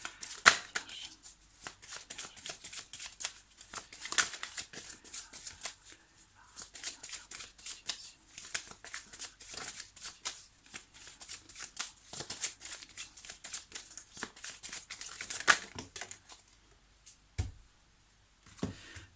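Tarot cards being shuffled in steady bursts of crisp, papery riffling at close range, continuing nearly the whole time with brief pauses and no talking.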